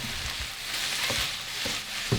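Pork stir-frying in a pan sizzles with a steady close hiss, broken by a few soft clicks and scrapes of stirring.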